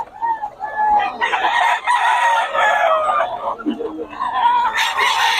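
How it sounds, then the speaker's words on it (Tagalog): Several roosters crow and cluck over one another, close and continuous, with someone talking underneath throughout. "Solid ang mga manok ni Boss Eric."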